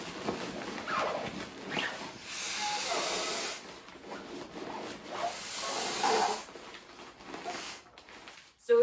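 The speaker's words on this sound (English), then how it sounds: "it's maybe just me blowing up my air mattress" An inflatable air mattress for an Appalachian Trail thru-hike being filled with air, heard as loud, rough rushing hisses in repeated long bursts with short pauses, close by.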